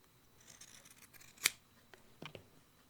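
Scissors snip through fabric pieces while trimming sewn pieces around a curve, a few quiet cuts and then one sharp, crisp snip, with a couple of fainter snips after it.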